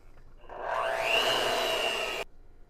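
An electric mixer or blender briefly whirs through salt, baking soda and coconut flour, rising to a steady high whine for under two seconds and then cutting off abruptly in a quiet kitchen.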